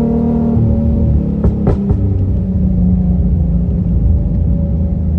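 A Nissan 350Z with a Cobra exhaust cruises steadily, its loud, deep exhaust drone close and constant, with a short whooshing rise partway through.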